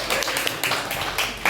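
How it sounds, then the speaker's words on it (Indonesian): Students in a classroom give a short burst of applause after group presentations, with brisk, overlapping claps that carry on for under two seconds. "tepuk tangan untuk kalian"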